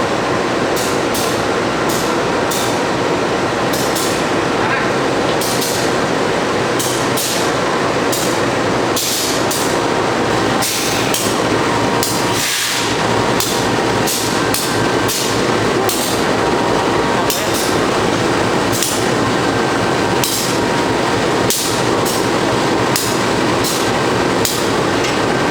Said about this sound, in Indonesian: Nah ini akhirnya lokomotifnya datang dari Jatinegara, dari Cipinang kali ya. Lokomotifnya CC203 kayaknya.